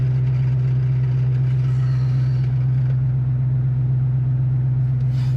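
A 1979 Chevrolet Camaro Z28 engine idles steadily at about 900 rpm with a constant low, throbbing hum, unchanging and close by, with no voices.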